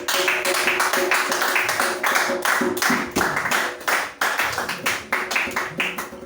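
A congregation at a prayer meeting applauding Jesus, with dense, fast, steady clapping from many hands filling the room, loud and close, continuing throughout without speech.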